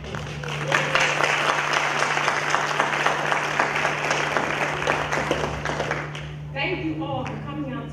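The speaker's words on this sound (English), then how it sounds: "Please, let us give them another round of applause." Audience applause after a performance at a cultural diversity awards evening, a thick wash of clapping over a low electrical hum that fades out as a voice begins speaking at the end.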